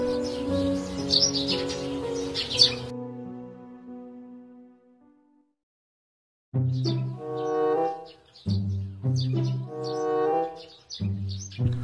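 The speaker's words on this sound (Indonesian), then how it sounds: "Lagian lu Meng, burung pakai dikontrakin" Pet bird chirping indoors in an Indonesian comedy-drama film scene, a run of bright repeated tweets and harmonic calls that stop, then several loud close bursts of call-like sounds returning after a pause.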